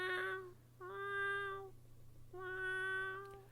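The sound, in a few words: cat meowing, audiobook sound effect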